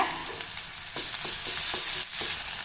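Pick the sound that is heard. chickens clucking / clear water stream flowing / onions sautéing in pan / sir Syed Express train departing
onions sautéing in pan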